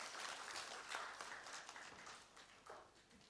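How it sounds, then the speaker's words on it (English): An audience at the EU Nepal Business Forum gives a faint, somewhat distant round of applause, a soft patter of hands that swells briefly then tapers off. "Let's have a round of applause for him, please."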